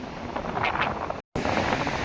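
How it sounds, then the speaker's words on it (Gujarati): Rough sea waves roar against the shore at Somnath, a continuous wind-blown rush of surf heard from a short distance, with a brief dropout midway. "દરિયો કરે છે કુંભાટા"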